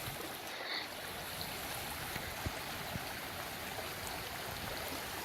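A cold, clear stream flows at Ekkarat waterfall near the Thai border in Umphang, Tak, producing a steady, dense, close rushing and gurgling wash that continues evenly throughout without pause.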